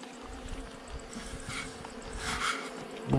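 Bees in a French drone-laying colony being shaken out, a dense steady buzzing hum throughout at moderate level with a louder swell near the end and no talk.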